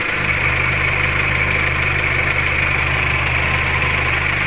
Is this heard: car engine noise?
yes